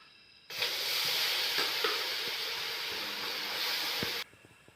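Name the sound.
adding jaggery (country sugar) to the pot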